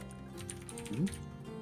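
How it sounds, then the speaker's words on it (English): Fast, steady keyboard typing continues throughout, a soft, busy clatter of keys heard close but quietly in the background with no voices over it. "I can hear the furious typing of Ben again."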